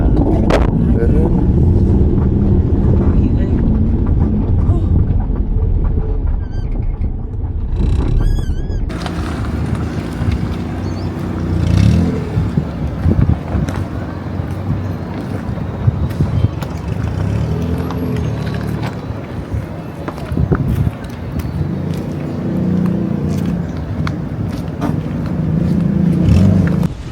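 A car drives on a road trip in Gunung Kidul, Yogyakarta, its engine and road noise forming a loud, continuous rumble under people talking inside the vehicle.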